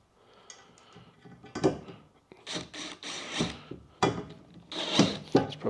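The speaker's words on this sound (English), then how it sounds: "I'm going to use the socket to tighten them down. It's a 10mm socket." A 10mm socket tightening the bolts on HappiJac tie-downs: close, irregular metallic clicks and clunks come in short bursts with small pauses between them.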